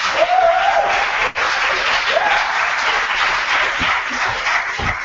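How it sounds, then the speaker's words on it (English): Applause from an audience at a student union election Q&A, a dense steady wash of clapping that holds loud and continuous from start to finish with one brief dip. "Give a round of applause for the gentleman."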